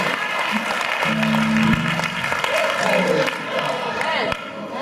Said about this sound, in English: Somebody clap those hands right now and shout, amen, amen, amen, amen.